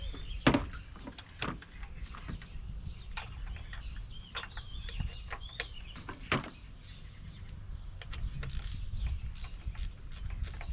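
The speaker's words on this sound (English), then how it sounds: "Did you hear that click?" Sharp mechanical clicks of a torque wrench tightening a spark plug on a 2008 Toyota Corolla, several distinct ratchet-like snaps close up over a low background hum.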